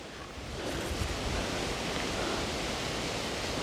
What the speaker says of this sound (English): We must be quite close to the waterfall.